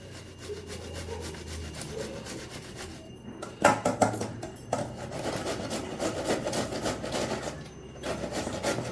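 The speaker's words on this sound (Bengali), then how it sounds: "এবার এর মধ্যে টমেটোটাকেও এরকম ঘষে দেবো" A tomato is rubbed against a hand grater to make a smooth paste, giving repeated rasping scrapes that come close and grow louder and busier partway through, with no talking.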